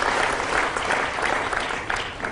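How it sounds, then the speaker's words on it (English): A ribbon-cutting crowd at the Levitt at the Falls venue applauds the city council, steady moderate clapping from a modest gathering that holds for a couple of seconds and thins slightly at the end. "So please join me in giving them a round of applause."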